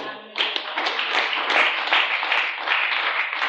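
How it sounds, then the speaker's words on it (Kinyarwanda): A church congregation claps together during a bishop's sermon, a dense and fairly loud burst of applause that starts abruptly and holds steady to the end. "Mbere Imana amashyi."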